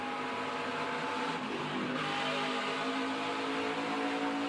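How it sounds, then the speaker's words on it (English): A NASCAR Craftsman-style race truck brushes the wall at Iowa Speedway, its loud engine roar shifting pitch as a faint squeak of the truck grazing the barrier rises midway through the pass. "You also heard a little squeaking from the truck grazing the wall"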